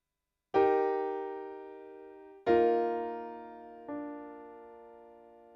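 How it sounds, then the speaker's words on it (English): Three sustained keyboard chords, each struck cleanly and left to ring and fade, the last one softer, forming a slow Amen cadence with no voices. "This little Amen cadence here."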